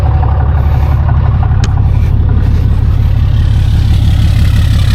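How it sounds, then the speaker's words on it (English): A loud Gen4 Cummins diesel truck engine drones steadily up close, its low exhaust rumble shifting in tone partway through as the exhaust brake engages with a brief sharp click. "You heard the exhaust change? I heard it change. That's because I hit the exhaust brake"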